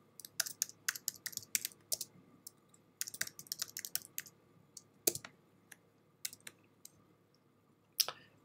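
Keys clatter on a computer keyboard as a title is typed, in quick irregular bursts of close, crisp clicks separated by short pauses, with no voices.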